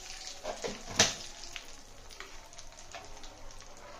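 Mustard seeds hit hot wood-pressed oil in a pan, giving a light crackling sizzle with a few sharp pops early on, then a soft, sparse spitting that continues quietly.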